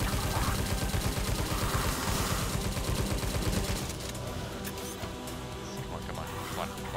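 Rapid automatic Tommy gun bursts in the shooter game Tesla vs Lovecraft, dense continuous rattling fire that eases into lighter scattered shots, with a player's voice talking over it.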